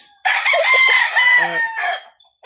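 A Golden Boy Sweater stag rooster crows once, loud and close, a long strained call of about two seconds, followed by a short faint sound.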